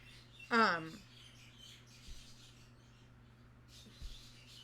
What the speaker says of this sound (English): I'm sure you can hear the birds going off as I'm saying that